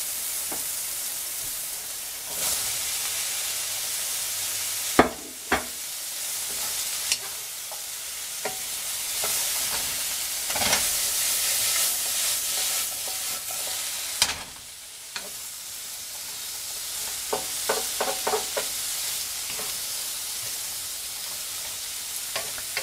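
Vegetables stir-frying in a pan for a chicken stir fry: a steady loud sizzle and hiss, with repeated scraping and clacking as the food is stirred and tossed, close up and without talk.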